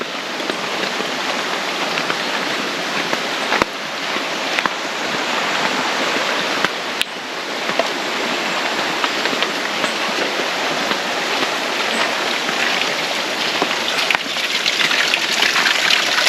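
Fresh mountain spring water flowing down a bamboo-covered Jamaican mountainside, a steady, dense rushing and splashing that holds at an even level throughout with no voices.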